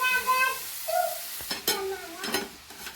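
Grated carrot stirred and sautéed in ghee in a kadai for carrot halwa, giving a steady soft sizzle with scraping stir strokes and the odd clink of the spoon against the pan, close by.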